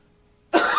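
A single sharp cough from a person in a live talk-show studio, bursting in abruptly after near silence and ringing on briefly, close and loud.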